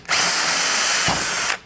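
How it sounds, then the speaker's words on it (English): A power drill bores holes in a mounting plate for a Works Connection Pro Launch Start Device, a loud close whine that runs steadily for about a second and a half with a brief dip in the middle. "this is gonna help brace this plate so when we're drilling these"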